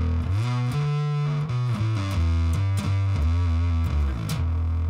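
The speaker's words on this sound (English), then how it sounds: "see if it had the classic Big Muff bass sound" An Electro-Harmonix Deluxe Bass Big Muff Pi fuzz pedal on bass guitar produces a thick, saturated fuzz bass riff with a run of distinct sustained notes, loud and close, playing alone with no voices.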